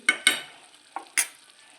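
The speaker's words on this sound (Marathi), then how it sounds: "एक दोन मिनिट आपल्याला शिजवून घ्यायची आहे पहा तुम्हाला चमचाच घेऊन दाखवते मी हे पहा खूप पातळ नाही आहे ही ग्रेव्ही" A spoon scrapes through a thick egg masala gravy cooking in a pan, making four short, separate stirring strokes that stand out close against near silence.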